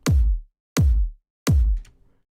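Three loud, tightly compressed kick drum hits shaped with a high-pass EQ in an electronic track, each a hard punchy thump with a clipped tail, played alone in a steady rhythm.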